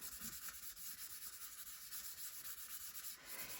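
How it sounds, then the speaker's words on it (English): A paper pocket's edge is lightly sanded for a Z-fold double flip pocket, giving a steady, close, dry rasping hiss that continues evenly throughout with no pauses. "now I want to sand this again just a little bit here on this edge"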